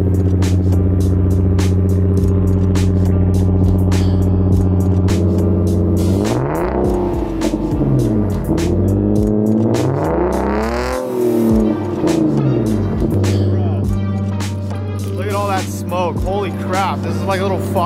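A Lexus IS300 with a straight-pipe exhaust idles loudly after a cold start on a cold day, a deep droning rumble. Several sharp revs rise and fall midway, with someone talking over the engine.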